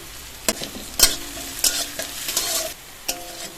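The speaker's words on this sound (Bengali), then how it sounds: "তেলটা গরম হয়ে গেছে, একদম এরকম ঝিরিঝিরি করে কুচিয়ে রাখা পেঁয়াজ দিয়ে দেবো।" Chopped onion and green chili frying in hot oil in a pan, a steady sizzle broken by several sharp clattering stirs and scrapes of a utensil, close and fairly loud.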